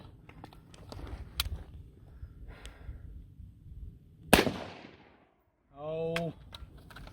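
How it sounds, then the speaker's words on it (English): A single sharp rifle shot from a Ruger Mini-14 Ranch Rifle fitted with Tech Sights, fired outdoors, loud and close, with a short decaying crack, faint movement sounds before it and a brief tonal sound just after. "See if we can get one last shot."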